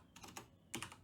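Quick keystrokes on a computer keyboard while entering a web address, several close, faint clicks in an uneven burst with no talking.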